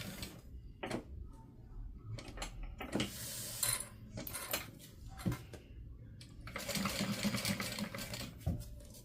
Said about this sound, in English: Stick it in the machine.